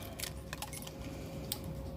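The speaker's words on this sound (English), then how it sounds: "I'm actually going to slip it on my key lanyard." Keys on a key lanyard jingling faintly in a few short metallic bursts over quiet background hiss, no speech.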